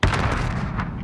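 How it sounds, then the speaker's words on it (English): A loud, close grenade blast in a video game: a heavy boom followed by a dense, rumbling roar that stays strong for about a second. "Oh, good grenade."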